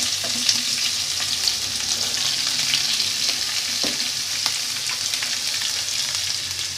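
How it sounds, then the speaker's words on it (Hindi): Chopped onion fries in hot oil in a pan, a steady close sizzle with faint crackles and occasional stirring clicks, no talking. "इधर मैंने पैन में ऑयल गर्म करने के लिए रख दिया। अब मैं इसमें ऐड कर रहा हूँ प्याज।"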